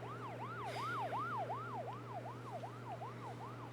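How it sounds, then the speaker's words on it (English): Ambulance siren wailing in a steady, repeating rise-and-fall pattern, loud and close over a constant low engine hum, with no voices. "Ambulance is here, so that's good."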